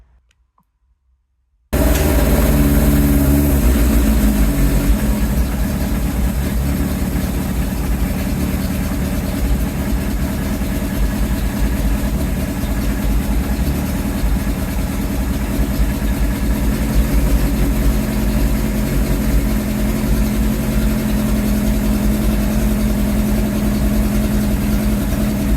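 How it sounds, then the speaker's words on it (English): A cold Suzuki Katana motorcycle engine fires after a moment of near silence and settles into a loud, steady, rumbling idle that continues close up to the end. "let me get the bike started up. It is cold"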